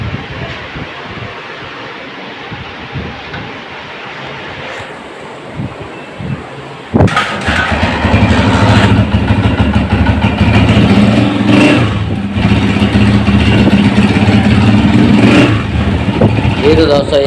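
A 2003 Honda CG 125 motorcycle engine, restored, fires up partway through and settles into a steady, loud idle, with someone talking over it.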